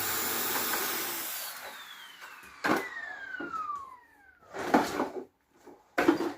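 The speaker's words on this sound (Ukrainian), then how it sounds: "Включаємо старий пилосос на максимальну потужність" An old vacuum cleaner runs at maximum power and then winds down with a falling whine, followed by short bursts of clattering and knocking nearby.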